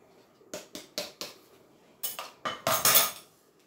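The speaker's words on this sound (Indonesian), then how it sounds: "Dan kita aduk dulu." A spoon stirs flour, baking powder and powdered sugar in a bowl for chocolate scones: a few light clinks against the bowl, then louder scraping strokes, close and quiet with no talking.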